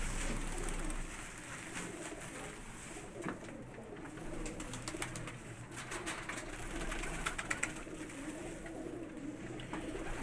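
Pigeons cooing softly at moderate distance, repeated low throaty coos over a quiet background with occasional light fluttering and clicks, no talking.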